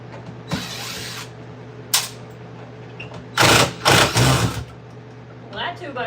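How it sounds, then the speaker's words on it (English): A power drill drives a screw into a 2x4 during a rental makeover, its motor whirring in several short and longer bursts with gaps between them, loud and close. "that 2x4 is still in pretty good shape if you made the drill make that noise"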